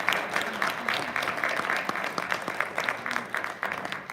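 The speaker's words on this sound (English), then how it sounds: "Give her a round of applause, please." Audience clapping steadily throughout at a birthday celebration gathering, a dense continuous patter of many hands filling the space at moderate volume.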